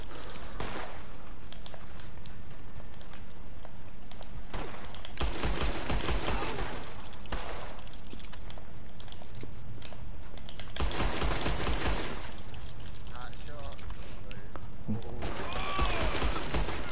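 Revolver gunfire in a video game, loud close bursts of rapid shots repeating across the stretch over constant game noise, with voices talking in between.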